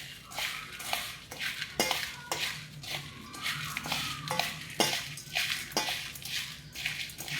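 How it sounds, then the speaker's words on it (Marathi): Puffed rice bhel with chaat masala being tossed and mixed in a bowl, giving repeated scraping and clinking spoon-on-bowl strokes at a steady pace, fairly close. "आणि आता मिक्स करायचं."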